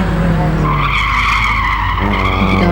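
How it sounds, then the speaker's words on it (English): A Subaru ASP race car skids with loud, continuous tire squeal and engine roar at a lakeside hillclimb bus-stop corner, close and sustained. "Andrew Admiral now in the ASP Subaru, coming up to the bus stop"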